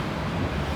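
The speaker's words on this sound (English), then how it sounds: "And the wind is still blowing." Steady wind roars and rushes in the aftermath of Hurricane Helene, a continuous close blustery wash buffeting the microphone with no voices.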